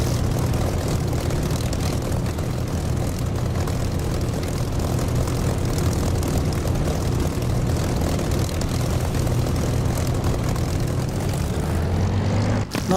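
A propeller aircraft in the DCS flight simulator game makes a loud, steady engine drone as it powers up to take off from a taxiway, and the drone holds constant to the end.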